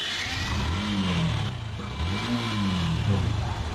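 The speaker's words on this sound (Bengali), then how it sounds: "ভাই দেখি তো স্টার্ট দেন তো দিই বাইকটা" A reconditioned motorbike engine runs steadily close by, its mid-pitched idle rising and falling in a couple of gentle revs with a slightly rough, tinny tone.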